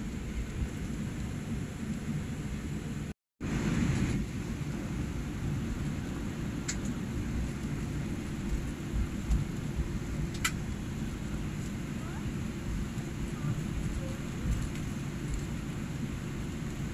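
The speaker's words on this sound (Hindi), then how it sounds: "बारिश है अभी तक।" Steady rain hissing outdoors at Mumbai Airport for the whole stretch, with a brief cut to silence early on and a few faint sharp clicks over the wash.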